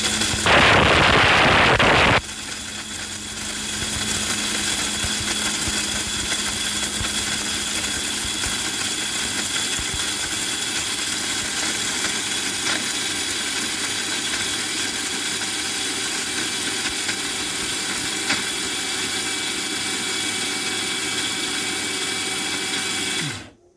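An electric blender grinds turmeric into powder with a loud, steady roaring whir. It follows a brief harsher burst at the start, holds evenly for about twenty seconds, then cuts off abruptly.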